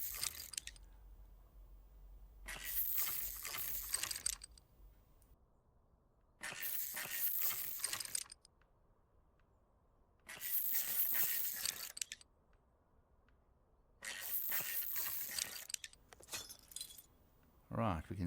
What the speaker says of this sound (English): let's just start loosening these wheel nuts